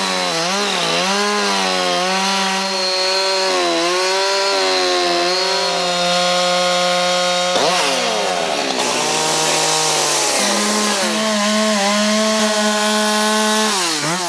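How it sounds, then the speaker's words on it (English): A chainsaw carves figures from a log, its engine revving and dipping in pitch as it cuts, loud and close, running nonstop throughout. "taking a log and using a chainsaw and trying to carve out different figures from a log using a chainsaw"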